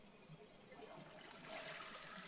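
In The Sims video game, a toilet flushes, a faint, steady rush of water that swells slightly toward the end, with no talk over it.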